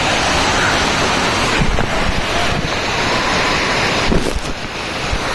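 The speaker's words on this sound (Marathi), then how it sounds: "हा बघा काळू वॉटरफॉल सगळ्यात मोठा आहे इथला" A loud, steady roar of rushing water from Kalu Waterfall at Harishchandragad fills the scene, broadband and constant, with gusts of wind buffeting.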